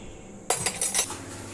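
A spoon stirs gram flour, curd and turmeric together in a bowl, giving a quick run of bright metallic clinks and scrapes that starts abruptly after a short silence and then settles.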